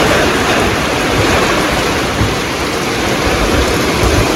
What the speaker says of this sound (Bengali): দেখুন কিরকম বৃষ্টি, বাপরে বাপ।